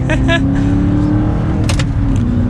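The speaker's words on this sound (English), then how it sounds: "We're gonna give it some more gas here." Audi R8 supercar engine building revs under acceleration, a steady loud low drone with a rising tone running through, heard from inside the car with a brief talking voice.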